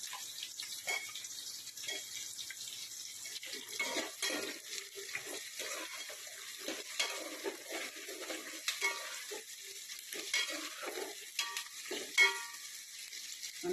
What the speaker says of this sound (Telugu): మళ్ళీ మునక్కాయ ముక్కలు వేసుకుందామండి